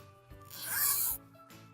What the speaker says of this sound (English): again, we're going to open the zipper.